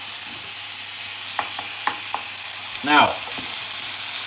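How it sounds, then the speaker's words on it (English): Steak sizzling in a hot frying pan with mushrooms, a steady bright frying hiss running throughout with a few scraping stirs, and a voice speaking briefly over it. "It's important that the pan is nice and hot when you put the steak in."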